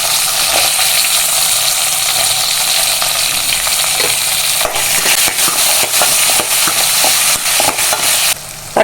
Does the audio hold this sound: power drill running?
no